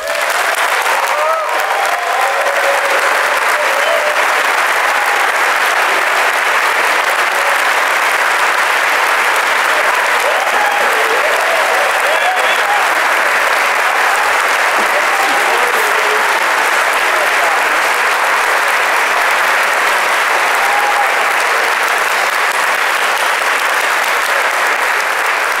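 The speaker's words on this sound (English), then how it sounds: "Please join me in putting your hands together to applaud the outstanding academic accomplishments of Maya Johnson and Elijah Moore." A large crowd at a college commencement ceremony gives sustained, loud applause that fills the hall for about twenty-five seconds. The clapping stays dense and even from start to finish, with faint voices mixed in.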